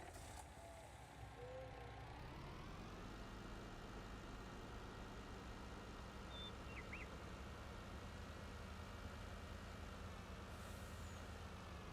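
A truck in the video game Farming Simulator 19 drones steadily with a constant low engine hum and faint whine, a brief air-brake hiss near the start, sounding continuous and fairly quiet.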